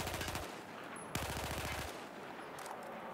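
Full-auto weapon fire in Battlefield 4, with two rapid bursts of loud, evenly spaced shots, the first short and the second longer after a brief pause, with no talking.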